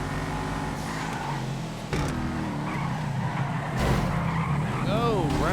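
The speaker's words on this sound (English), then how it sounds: "Oh, Rhymes skidding." A race car in GTA skids with its tires squealing, engine droning throughout and the screech rising near the end.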